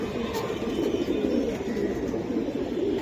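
A pair of silver Giribaz pigeons coos in a low, steady, rolling murmur close by, filling the moment without any voices over it.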